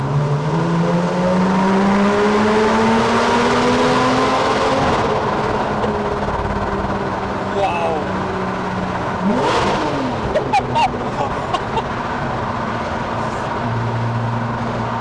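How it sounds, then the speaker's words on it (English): A Porsche 911 991 with a flat-six engine and titanium exhaust, valves open, revs hard inside a tunnel, rising and falling loudly with echoing crackles; a passenger briefly exclaims. "you've got that beautiful Porsche flat six sound"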